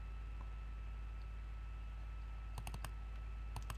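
A handful of sharp computer mouse clicks, a pair near the middle and another pair near the end, crisp and close against a quiet background hum.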